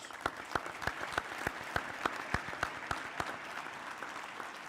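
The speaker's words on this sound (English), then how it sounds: "Please give these folks a great round of applause." Scattered applause for sponsors at a teachers' awards celebration, sharp individual claps standing out over a steady wash of clapping.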